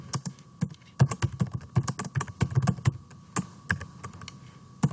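Fingers type code on a computer keyboard in quick, irregular bursts of close, crisp key clacks with small pauses, heard alone without speech.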